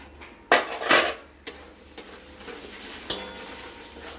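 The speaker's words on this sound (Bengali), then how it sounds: "এবার আমরা ঢাকনাটাকে খুলে দেখব।" A lid coming off a pan of cooking masala: a few sharp metallic clanks and scrapes, with the loudest burst early on, over a faint sizzle and no speech.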